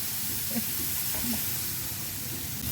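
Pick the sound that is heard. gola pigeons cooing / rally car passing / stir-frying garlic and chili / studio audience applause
stir-frying garlic and chili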